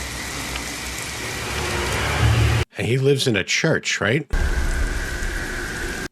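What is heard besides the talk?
rain from horror movie scene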